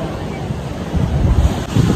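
Sea waves wash along the Karachi shore in a loud, steady rushing roar of surf, with heavy wind buffeting the microphone throughout.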